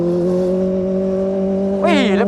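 A Ferrari engine holds a steady, loud, tonal drone, then revs sharply upward near the end as it passes close by.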